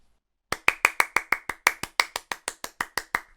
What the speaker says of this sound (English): let's see what happens now if I actually start clapping properly